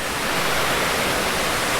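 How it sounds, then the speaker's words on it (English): Steady broadband roar of Forth Falls waterfall in Wilmot, Tasmania, heard from its very top above the drop into Lake Barrington, a constant close rush of water with no pauses. "I'm now standing at the very top of the third waterfall, which drops into Lake Barrington"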